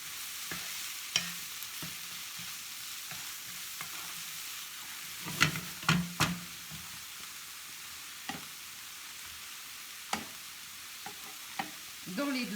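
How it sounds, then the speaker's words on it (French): Thai green curry and spring onions sizzle softly in two pans under a faint constant hiss, with sparse scraping and clinking strokes as a utensil stirs, plus a couple of louder knocks in the middle. "Alors, on remue."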